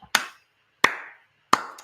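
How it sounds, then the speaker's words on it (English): Three slow, deliberate hand claps spaced about 0.7 seconds apart, each sharp and close with a short decaying ring, clear against silence and with no voices. "Slow clap."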